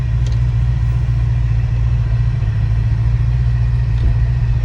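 A C6 Corvette with leaking fuel injectors cruises on a test drive, its engine a steady low rumble heard from inside the car over constant road noise, with no talking.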